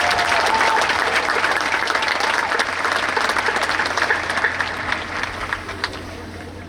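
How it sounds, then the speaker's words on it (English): Sustained audience applause at a high school commencement ceremony, a steady wash of many hands clapping that gradually thins and fades toward the end. "Please give them a round of applause."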